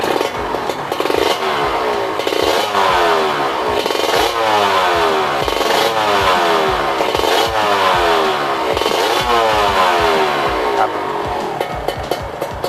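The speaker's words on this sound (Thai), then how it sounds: "เปิดคันเร่งนิดเดียวเองอะ" A Kawasaki KR two-stroke motorcycle revving hard, with repeated throttle blips that rise and fall in pitch every second or so, loud and close with a rattly exhaust.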